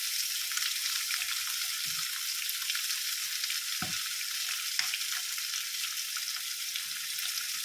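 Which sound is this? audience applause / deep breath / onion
onion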